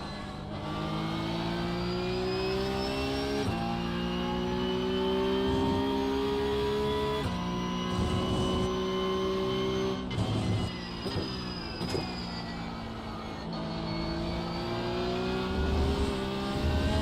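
A race car in iRacing, engine screaming loud and close as it climbs through the gears with clear upshifts, a few downshift blips and brief dips through corners, and no one speaking.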